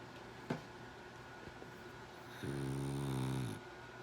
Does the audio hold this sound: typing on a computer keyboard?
no